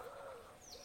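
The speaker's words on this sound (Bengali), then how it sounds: "চারিদিকে পাখি ডাকছে," Birds calling among trees in the early morning near Susunia hill, a faint soft cooing with a brief higher chirp, distant and quiet.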